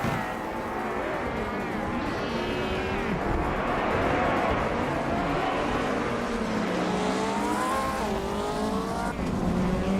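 Race cars in a video game, a vintage 1985 Lancia Delta among them, roar off the starting line with engines revving hard, loud and continuous, with tire squeal over the pack.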